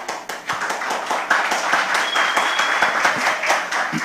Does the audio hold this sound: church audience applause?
yes